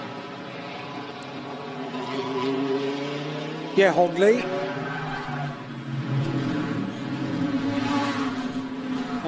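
Audi R8 GT race cars of the Audi Sport Asia team lapping the twisting Macau street circuit during the Macau GT Cup, a steady engine drone with a brief sharper passing burst midway, under a commentator's voice.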